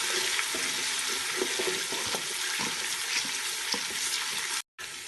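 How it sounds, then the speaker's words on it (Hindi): Chopped ginger and garlic sautéing in oil in a pan while making Sindhi pulao, a steady close sizzle and crackle that runs unbroken for several seconds before a brief drop-out near the end. "अदरक लहसुन को भी हमने हल्का सा सौते करना है।"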